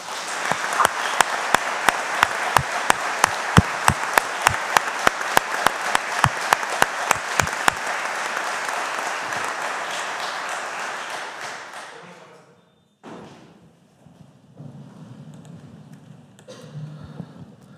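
An audience at a lawyers' swearing-in ceremony before the Supreme Court claps in a large room, the applause building to a dense roar for about twelve seconds, then dying away to quiet room noise with a brief shuffle.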